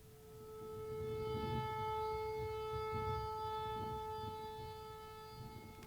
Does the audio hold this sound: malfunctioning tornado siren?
yes